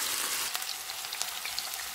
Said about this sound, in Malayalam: ഈ ചിക്കനിൽ നിന്ന് പകുതി എടുത്ത് നമ്മൾ വറുത്തെടുക്കുകയാണ്